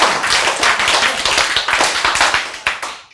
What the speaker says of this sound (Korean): 하나님한테 박수 쳐야지.